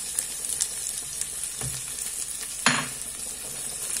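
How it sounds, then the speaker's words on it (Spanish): Garlic and onion frying in oil in a pan for a small sofrito for prawn soup, a steady close sizzle with brief louder spits and stirring bursts, heard alone without talk. "Echamos el ajo, echamos la cebolla."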